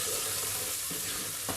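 Bacon and garlic fry crisply in a pan, a steady close sizzle with faint stirring scrapes and no talking.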